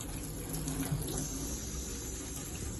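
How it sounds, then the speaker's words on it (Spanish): Tap water runs steadily into a sink while spinach is rinsed, a constant close splashing wash with no talk. "Sí, lo vamos a enjuagar todo esto."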